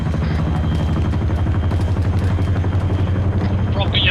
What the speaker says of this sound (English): That is a Chinook indeed.